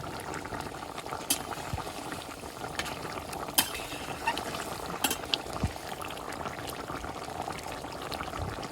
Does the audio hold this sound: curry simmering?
yes